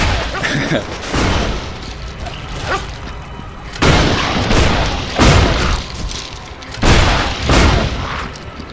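Shotgun blasts from the video game Torchlight 2, three loud booming bursts spaced a few seconds apart, each with a crackling tail over a busy in-game background.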